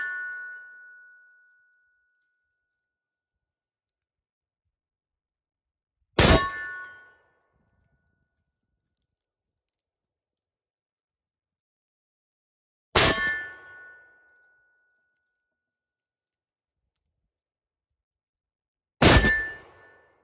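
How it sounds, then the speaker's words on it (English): A Mosin Nagant 91/30 rifle fires at a steel target, producing three sharp cracks spaced several seconds apart, each followed by a brief ringing clang that fades quickly. "We're gonna start out with the longer 9130, and we're gonna shoot that pink target right there, see how many rounds we can put close together"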